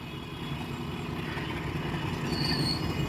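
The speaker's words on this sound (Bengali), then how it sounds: "আর এই হলো রেল, যেটা এখন আসছে বাংলাদেশের যে বর্ডার, নিশ্চিন্তপুর থেকে" A stone-laden goods train arriving from Nischintapur on the Bangladesh border into Agartala rolls past steadily at close range, a loud continuous rumble of wagons with a faint wheel squeal near the end.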